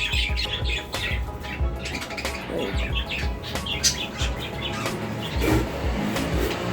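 Pet lovebirds squawk and chirp close by in a home garden, a busy stream of sharp, overlapping calls and tweets that continues throughout, with no talking.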